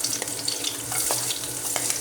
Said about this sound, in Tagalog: mainit ng kawali ang mantika. Gisa ko na.